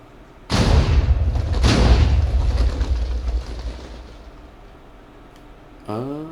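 Nether tunnel bore contraption firing in Minecraft, heard as two loud booming thuds in quick succession that roll into a long fading rumble, followed by a short rising mechanical tone at the end, with no talking.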